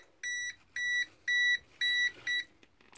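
Five repeated electronic beeps from a Venlab VM600M multimeter set to voltage detector mode, each lasting about a quarter second with short regular gaps, close and clear with no talking.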